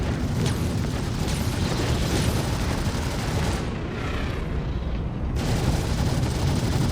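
An Aegis Vanguard Harbinger spaceship's shields take weapon fire in a space game, a dense, continuous roaring rumble of impacts and crackling blasts that dips briefly and then surges back at full loudness.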